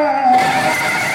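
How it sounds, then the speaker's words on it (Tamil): A staged horse neigh played as a sound effect during a village drama performance, a loud short whinny rising over a busy, reverberant background. "குதிரை"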